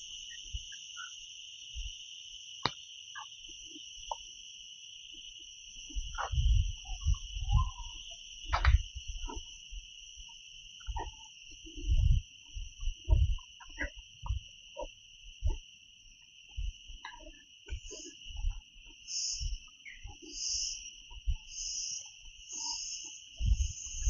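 Insects chirp in a Western Ghats forest, two steady high-pitched tones droning without break, one later turning into a pulsing trill, over scattered soft thumps and rustles nearby.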